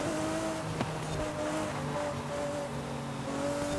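Lamborghini Aventador SVJ in a Forza Horizon 5 race, a steady loud engine drone with sustained tonal whine holding throughout, continuous and close.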